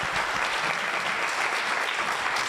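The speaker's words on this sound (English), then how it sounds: "Let's clap for him." Audience applause fills the room at a university event welcoming a professor, a dense, steady wash of many hands clapping at full strength throughout, with no voices standing out.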